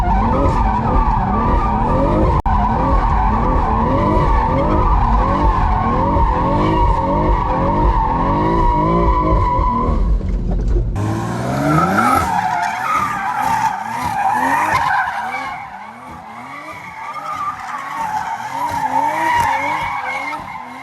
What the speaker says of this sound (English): I was trying to do the, you know, big and then go into small drifts in an open lot